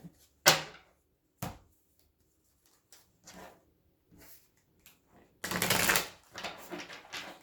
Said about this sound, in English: 2 more shuffles and we'll pull your theme.